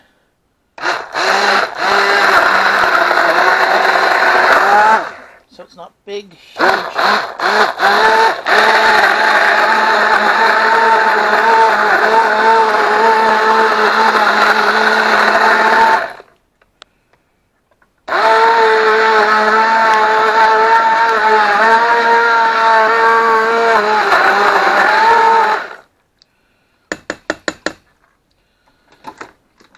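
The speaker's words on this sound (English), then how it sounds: "I'm just going to use the immersion blender a little bit to break it" An immersion blender whirs through a ground beef sauce in a pot, running in long loud bursts with pauses between them and a few short pulses at the end; a voice speaks briefly.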